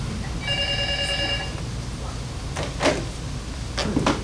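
A telephone rings with a bright electronic trill lasting about a second, followed by a few dull knocks and thumps, all against a steady low background noise.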